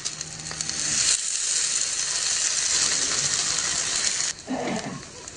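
Bhakri flatbread frying in oil on a hot griddle gives a bright, steady hiss, loud and close, with a brief break and a soft scrape near the end.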